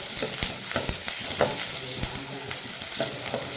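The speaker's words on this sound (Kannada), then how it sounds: "ಈರುಳ್ಳಿ ಹಾಕ್ಕೊತಿದ್ದೀನಿ. ಅದು ಚೆನ್ನಾಗಿ ಬ್ರೌನ್ ಕಲರ್ ಬರಬೇಕು." Sliced onions frying in a pan for egg gravy, a steady close sizzle broken by repeated scraping clicks of a spoon stirring every half second or so, with no voices.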